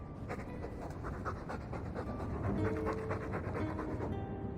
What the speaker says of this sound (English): All that noisy dog breath, day in, day out, make him stop